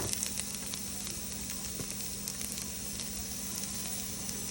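A potato frittata sizzles in a thick-based pan, giving a constant, close frying hiss with small crackles and a low steady hum beneath it, and no one speaking.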